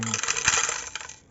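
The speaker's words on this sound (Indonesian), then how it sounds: "Terus kita masukkan batu-batu kerikil yang tadi, pelan-pelan saja." Small gravel pebbles drop slowly into a glass terrarium, making a brief cluster of hard clinks and rattles on glass, close by and without speech.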